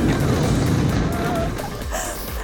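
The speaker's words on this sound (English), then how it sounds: "Krista took on a bobsled ride in Latvia" A bobsled ride down an icy track in Latvia, a loud continuous rumbling roar of runners on ice that holds steady throughout and eases slightly toward the end.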